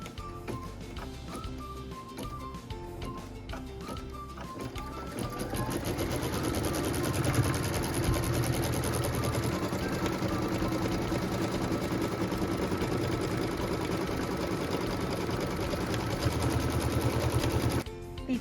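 A sewing machine runs continuously, stitching the outer line of a pieced quilt block with a steady mechanical hum and rapid needle clatter, up close. Light music plays at the start and fades under the motor.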